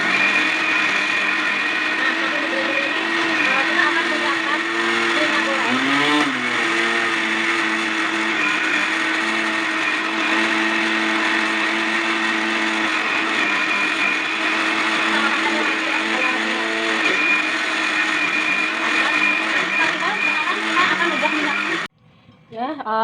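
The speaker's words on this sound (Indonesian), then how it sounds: "Kemudian siap kita blender" A kitchen blender grinds spice paste with a little water for chicken noodles, a loud, steady motor whir with churning that runs continuously and then cuts off abruptly near the end. Speech is faint underneath.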